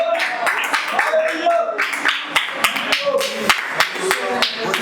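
A church congregation claps at a special meeting: sharp, irregular hand claps sound close and fairly loud, mixed with voices and talk throughout.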